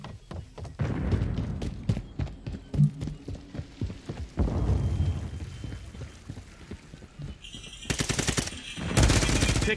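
Bursts of automatic gunfire from a Call of Duty video game firefight, repeated sharp volleys early on and heavy rattling bursts near the end, loud and close, with no talking.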